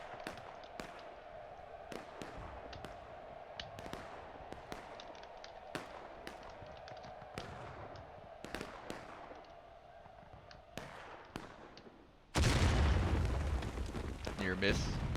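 Sharp Civil War cannon booms from the video game War of Rights go off irregularly, some near and some distant, over a steady low hum, followed by a sudden louder rushing blast.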